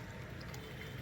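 Water gushing steadily from a leaking Cauvery supply pipe at Talaghattapura, Bengaluru, a continuous rushing wash that stays fairly constant and close throughout, with no voices.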